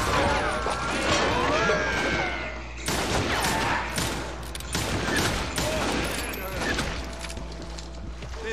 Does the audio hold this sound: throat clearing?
no